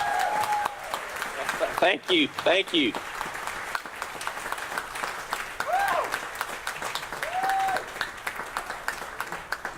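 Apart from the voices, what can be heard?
crowd applause at a campaign event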